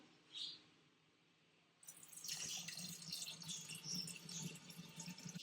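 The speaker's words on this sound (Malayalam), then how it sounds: "ഇനി നമുക്ക് തിളപ്പിച്ചിട്ട് ആറി വെച്ചിരിക്കുന്ന വെള്ളം ഒഴിച്ചു കൊടുക്കാം" Boiled, cooled water poured into a jar of banana wine mix, a steady splashing trickle starting after a short quiet pause and running on at close range, fairly soft.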